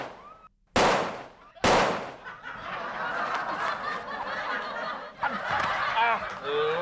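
A large firecracker goes off twice in quick succession, two sharp, loud, close bangs, followed by people talking and laughing.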